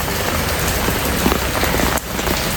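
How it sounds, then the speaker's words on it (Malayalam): Heavy morning rain pours down, a dense, loud hiss of drops striking surfaces that stays steady throughout and dips only briefly near the end. "രാവിലെ നല്ല മഴയാണ്"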